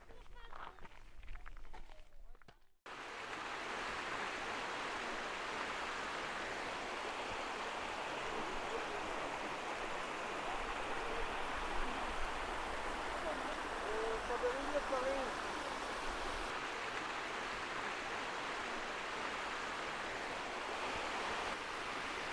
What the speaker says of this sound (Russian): Термальная река.